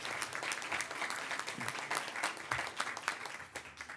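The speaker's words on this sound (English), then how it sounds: "a round of applause to Studio" An audience at a local arts and business awards ceremony claps steadily for an award winner, a moderately loud, even patter of many hands with no one talking.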